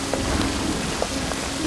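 Steady rain falls in a dense, even hiss with a few faint individual drops ticking through it, moderately loud and continuous with no voices.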